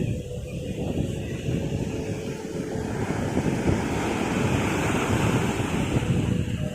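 Sea waves wash steadily at Sidi Bishr beach in Alexandria, a continuous loud surf roar mixed with gusty wind buffeting the microphone.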